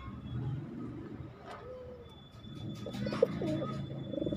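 A pigeon coos softly a few times over steady low background rumble, with faint traffic noise in the distance.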